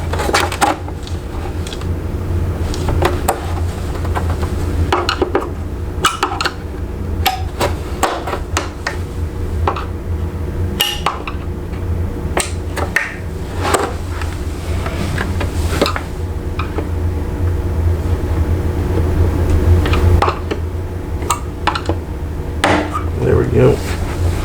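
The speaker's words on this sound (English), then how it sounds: "Then I'm gonna come in with my little flathead and start to pry these." Flathead screwdriver prying at the plastic clips of a 2008-2010 Ford Super Duty F250/F350 console lid, giving scattered sharp clicks and knocks over a steady low hum, with some speech in the background.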